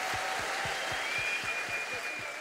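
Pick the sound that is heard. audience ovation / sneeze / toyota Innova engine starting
audience ovation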